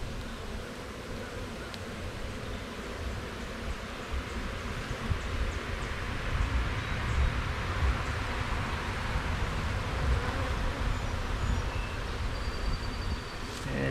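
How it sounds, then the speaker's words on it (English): Irritated honey bees buzzing around a beekeeper's head at an opened hive, a continuous soft droning hum with faint rustling, steady and close. "I've got some irritated bees flying around my head here."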